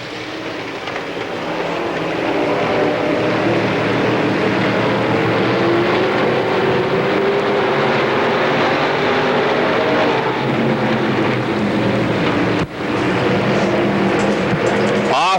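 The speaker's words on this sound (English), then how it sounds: "Green is out. They're underway, the York Limited Late Models." A pack of York Limited Late Model race cars roars away at the green flag on a Pennsylvania Motor Speedway oval, a dense, loud, sustained engine drone that swells quickly and holds steady, with a sharp click near the end.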